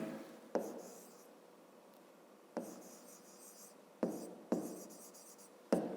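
Handwriting with a pen on paper while working a fifth-grade math exercise, close and quiet: soft continuous scratching strokes broken by several sharp taps as the pen lands on the page.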